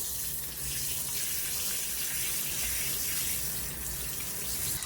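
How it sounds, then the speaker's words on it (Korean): Squid being washed under a running kitchen tap, a steady broadband rush of water splashing into a sink that carries on without a break, close and fairly loud, with no voices over it. "오징어는 깨끗이 씻어줍니다"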